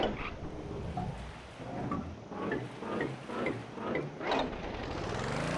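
A small 1x1 engine in Stormworks thrown into reverse, chugging with a rough, pulsing rhythm of repeated surges and a rising whine toward the end, steady and fairly loud with no voices.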